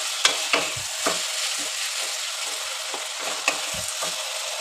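Potato pieces fry in hot oil over a high gas flame, a steady sizzle broken by several sharp scraping stirs of a spoon against the pan, close and clear with no talking.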